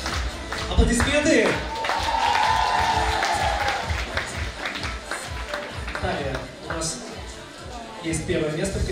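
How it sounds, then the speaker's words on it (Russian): Applause from an award ceremony audience at a Yokai 2021 prize-giving, steady dense clapping with cheering and a voice over it, sustained for several seconds. "Аплодисменты!"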